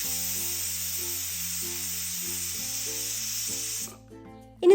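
Ghee sizzles steadily in a hot pan on the stove, a bright continuous frying hiss over a low hum. The hiss drops away near the end.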